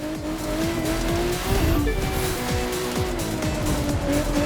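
Race car in The Crew 2 on a snowy mountain road, engine droning loud and steady with rising and falling pitch as it shifts, tires squealing and skidding over the top throughout.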